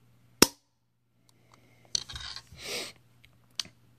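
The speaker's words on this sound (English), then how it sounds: "So this is the take up in the trigger." Sharp mechanical clicks from the trigger of a race gun with a light pull of about 1¾ pounds, one crisp click at the start, a scraping cluster midway and another click near the end, close and isolated.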